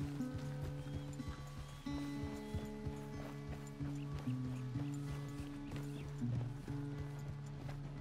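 Horse hooves clip-clop at a walking pace in Red Dead Redemption 2, steady rhythmic hoofbeats alongside tonal music-like drones, fairly quiet throughout.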